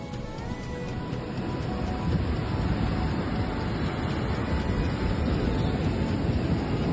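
Sea waves wash steadily at the seashore, giving a continuous broad roar of surf and wind with no voices over it.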